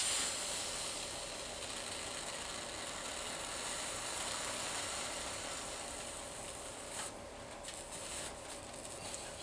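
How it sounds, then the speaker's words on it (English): Steady broadband hiss of steam bending wood, running throughout, fairly loud and close, with a few faint clicks and knocks near the end. "it takes steam to bend these, not just soaking in water"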